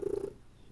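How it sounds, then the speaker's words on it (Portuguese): A cat purrs close by, a soft low rumbling that sits directly behind the listener, steady at first and then fading slightly through the short stretch. "ignora esse ronronado atrás de mim, porque ele, Luke"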